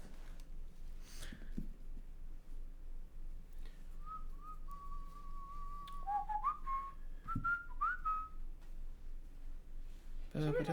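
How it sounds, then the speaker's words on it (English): A person whistles a short, wandering tune alone in a quiet room over low background hum, starting softly and growing a bit clearer, with a faint voice and a thump near the end. "Somebody said I whistle a lot."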